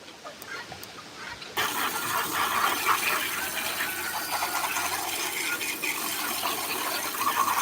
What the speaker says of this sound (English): I need to rinse this lid off real quick